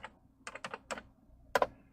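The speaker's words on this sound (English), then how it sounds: "I love the fucking hunt and peck typing though" Slow hunt-and-peck typing on a computer keyboard, a handful of separate key clicks tapped at an irregular pace with short pauses, then a louder double tap near the end.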